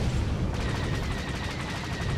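Missiles fire in Star Wars: The Old Republic as a continuous, dense rattle of rapid launches and impacts, steady and fairly quiet throughout with no speech.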